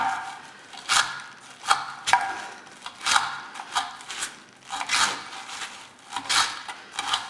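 A Spyderco Sage 3 knife with an S30V steel blade slices through material in repeated drawn cuts, each a crisp rasping swish, about a dozen close, fairly loud strokes in an uneven rhythm with no talk.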